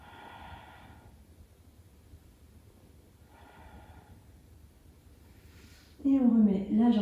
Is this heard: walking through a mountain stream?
no